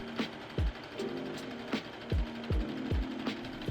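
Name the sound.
sewing machine sewing zigzag stitch on stretchy elastic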